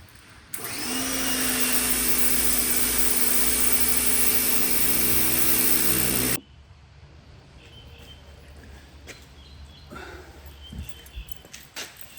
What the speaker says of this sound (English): I've never been so excited to use a pressure washer in my life.